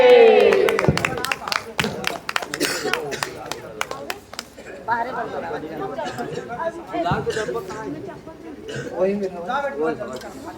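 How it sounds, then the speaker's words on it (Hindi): An audience applauds for the Manas Mandali devotional singing group at a bhajan and katha gathering, with a burst of loud clapping at first that thins into scattered claps under crowd chatter. "आप सब जोरदार ताली बजाओ"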